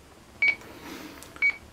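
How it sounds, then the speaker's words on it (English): Two short electronic beeps about a second apart, thin and high-pitched, from a buzzer on a trainer during a motor thrust test, in an otherwise quiet room. "That's a buzzer on me trainers."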